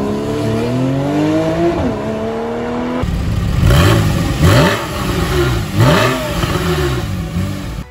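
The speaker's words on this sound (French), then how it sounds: "des échappements sport lui offrant une sonorité inoubliable" A Porsche 911 991 4S with sport exhaust revs hard, each sharp rise and fall of engine pitch repeating several times, loud and close, after a stretch of steady engine tone.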